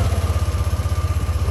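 A 2023 Yamaha NVX 155 ABS scooter with a stock engine idles steadily close by, a low, even pulsing throb with a faint mechanical clatter on top and no other sounds.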